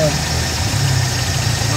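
A car engine idles steadily and close by, a low continuous rumble with slight vibration, on a road trip from Quezon City to Calatagan, Batangas, with a voice talking over it.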